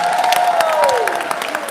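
An audience at a Women's History Month event claps, a short dense burst of applause with scattered cheers, fading slightly as it goes.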